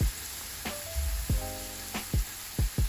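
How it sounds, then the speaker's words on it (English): Ground meat and onions fry in a pan, a soft sizzle under repeated sharp scrapes and taps of a utensil stirring against the pan, close by. "Now cook until the meat is nearly done and the onions are turning translucent, making sure you're stirring regularly."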